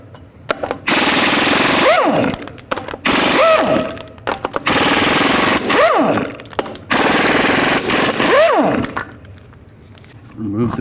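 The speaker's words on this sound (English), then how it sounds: "Carefully take these caps off and remove the lug nuts." Impact wrench spinning lug nuts off the front wheel of a 2002-06 Chevy Avalanche with a 22mm socket, loud close rattling bursts of several seconds each, separated by short pauses and tool whine.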